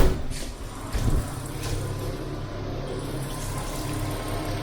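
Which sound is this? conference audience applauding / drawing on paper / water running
water running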